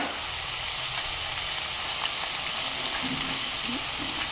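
Three dried red chilies hit hot oil for a duck curry, giving a loud, steady sizzle that hisses on without a break.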